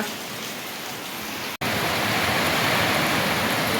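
Steady, dense rainfall hissing on surfaces, continuous and fairly loud, with a momentary cut partway through.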